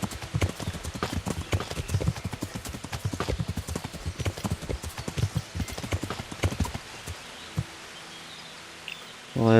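A grey horse's hooves clip-clop in a steady walking rhythm in the game Kingdom Come: Deliverance, close and clear for most of the stretch before fading to a quiet ambient bed near the end.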